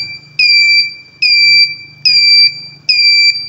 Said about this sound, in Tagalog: So nagsasound yung ating buzzer.